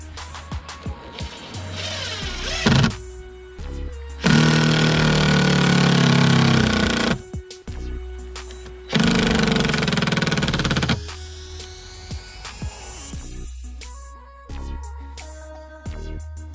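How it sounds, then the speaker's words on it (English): A power drill drives exterior screws into boards while a boat tow pylon is installed, heard as two long, loud whirring bursts with quieter clicks, knocks and handling noises between and after them. "now that board is getting screwed in"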